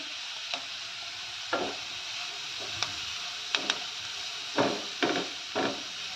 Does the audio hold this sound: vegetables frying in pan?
yes